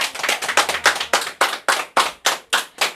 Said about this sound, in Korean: 우리 대표님 위해서 박수 한 번만 크게 해주세요